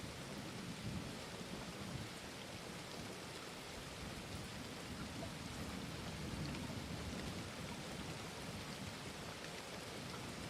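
Steady heavy rain pours across every surface while low thunder rumbles and swells underneath, dense and continuous from start to finish.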